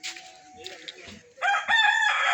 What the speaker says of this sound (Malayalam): നല്ല പൂവൻ കോഴികളൊക്കെ ഉണ്ട് കേട്ടോ.